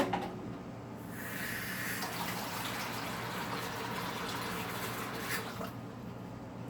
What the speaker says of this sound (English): And then we can add a little bit of water.